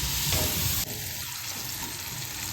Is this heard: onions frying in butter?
yes